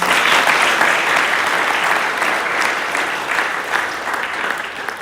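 Warm, sustained audience applause for award winners at a school academic prize-giving fills the hall, loudest at the start and easing off slightly toward the end.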